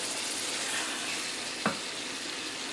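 Ground meat browns in a pot for chili, giving a steady, dense sizzle with a brief scrape of stirring partway through and no talk.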